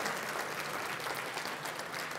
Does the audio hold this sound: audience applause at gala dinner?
yes